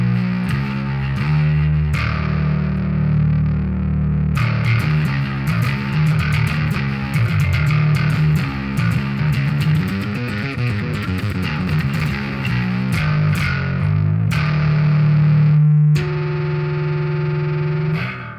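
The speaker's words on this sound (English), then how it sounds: "Character on this pedal makes it sound to me more like a distortion than a fuzz." An electric guitar played through a KHDK Unicorn Blood II fuzz pedal gives thick, gnarly, distortion-like tone, with sustained chords and choppy riffed passages, loud and alone with no talking.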